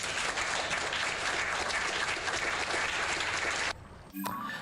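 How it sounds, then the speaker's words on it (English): A crowd claps steadily and densely for several seconds, then the applause cuts off abruptly near the end. "Round of applause, everybody."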